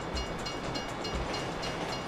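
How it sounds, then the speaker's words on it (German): A train rolls past in Grand Theft Auto V, a steady close rumble of rail noise with faint rhythmic thumps of wheels running over the track, heard alone without talk. "Ich bin gerade hinterm Zug."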